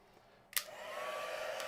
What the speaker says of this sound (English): I'm using a heat tool here.